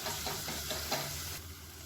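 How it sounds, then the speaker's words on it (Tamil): Tomatoes are stirred and sautéed in a pan for rasam, giving a soft, continuous sizzle with faint scraping stirs, heard close and fairly quiet with no talking. "தக்காளி நல்லா மசிஞ்சு தொக்கு மாதிரி வரணும், அந்த அளவுக்கு வதக்கணும்"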